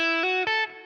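A few quick distorted electric guitar notes played in succession, bright and sustained, forming a short pentatonic blues lick that fades at the end.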